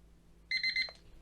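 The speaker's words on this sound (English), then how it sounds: "it gives you a 3 quick burst of beeps, turns off." DR OTEK MT6 Pro metal detector pinpointer switching off with three quick, high electronic beeps in a short evenly spaced burst, followed by a brief lower blip, clear against a quiet background.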